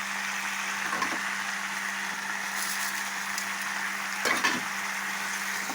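Moringa leaves fry with salt in a pan, giving a steady, close hiss of sizzling oil with a few brief stirring scrapes and crackles, and no talking.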